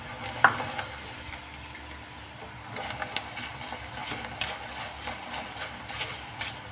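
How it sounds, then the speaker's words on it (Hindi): Small batches of poha (flattened rice) fry in oil for a namkeen snack, a soft continuous sizzle with scattered clacks of a ladle moving through the pan. "अब हम इसमें थोड़ा थोड़ा पोहा करके फ्राई करेंगे।"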